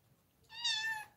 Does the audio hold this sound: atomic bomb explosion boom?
no